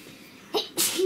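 A single close sneeze, a short sharp intake followed by a loud explosive burst, in a quiet indoor room with faint background hum.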